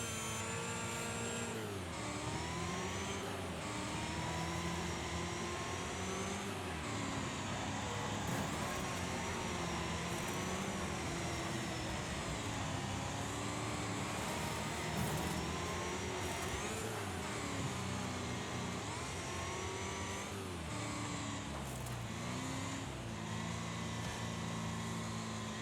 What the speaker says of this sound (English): Buggy sounds like an RC car.